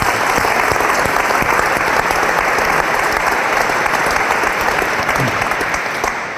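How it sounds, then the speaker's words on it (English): Sustained audience applause fills a lecture hall at a talk on truth-telling, dense and steady throughout, with a few faint voices mixed in near the end. "Let's give Max a round of applause."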